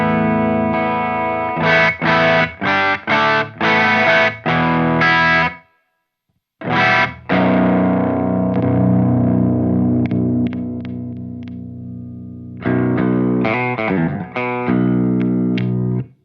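Electric guitar through a Horizon Devices Precision Drive overdrive pedal, heard on its own: tight distorted chugs and stabs, a gap, then a long sustained low note swelling, and more choppy chugging, close and loud.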